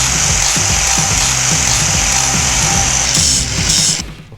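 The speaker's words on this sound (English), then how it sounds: "Both sides are welded, so now I need to grind them and make them pretty before we paint them" A power grinder works the welds on a KTM Duke 250 motorcycle frame, producing a loud, continuous abrasive hiss with a rhythmic low chatter as the disc bites, then the sound tapers off at the end.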